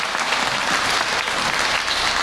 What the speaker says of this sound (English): Please, big round of applause for all our presenters.